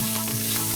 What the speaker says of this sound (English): I'm going to put in 1 teaspoon of kala jeera, 3/4 teaspoon of yellow asafoetida powder or hing, 1 tablespoon of freshly grated ginger.